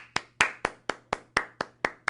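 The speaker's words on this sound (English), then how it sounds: "I think she deserves a round of applause for 17 years of volunteer work" Hands clap in a slow, even rhythm of about eight sharp, distinct claps, close and fairly quiet, applauding a longtime volunteer on a fitness program.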